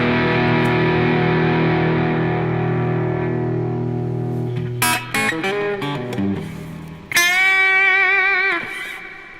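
Distorted electric guitar plays a well-known comedy theme tune: a long sustained chord rings out, then choppy staccato notes and a bright repeating riff, alone with no talking.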